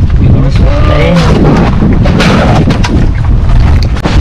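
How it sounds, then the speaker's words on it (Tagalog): Heavy rainstorm pouring down in a loud, dense, unbroken roar that fills the whole stretch, with faint voices occasionally audible beneath it. "Lakas ang ulan."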